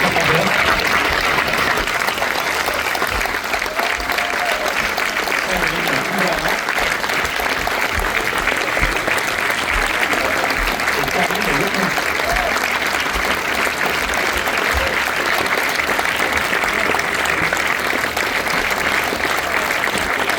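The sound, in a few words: cinema audience applauding the film director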